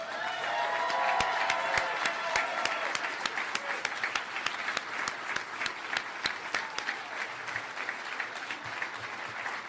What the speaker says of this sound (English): Please join me in a loving and very heartfelt round of applause